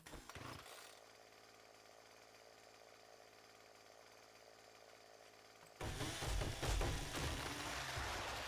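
In the game 7 Days To Die, a powered auger grinds through the ground with a steady buzzing motor whine, then a louder, rougher burst of digging noise erupts near the end.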